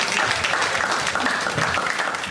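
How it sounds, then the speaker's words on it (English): Audience claps in a warm round of applause, many hands together in a brief, fairly steady burst of moderate loudness with faint voices mixed underneath. "A big round of applause, please."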